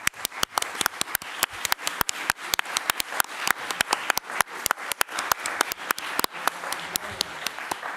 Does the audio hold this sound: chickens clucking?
no